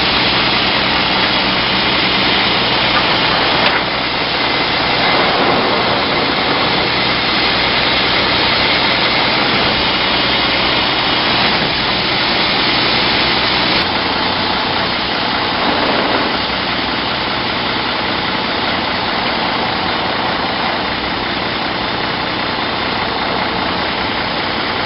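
A semi truck engine runs in its lowest gear while moving the tractor for fifth wheel sliding, a loud, continuous low rumble with steady vibration and little variation throughout.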